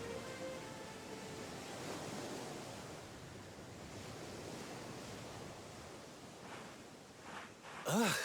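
Open ocean waves roll and wash steadily in Dragon Quest XI, a broad continuous surf noise at moderate level, with a brief tonal game sound rising near the end.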